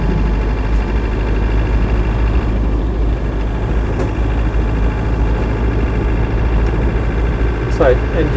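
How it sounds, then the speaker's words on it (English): A Land Rover 90 with a 200TDi diesel engine running while driving, a loud, steady low diesel rumble throughout with light knocks and rattles, a voice speaking over it. "Engine seems to get on with it quite well."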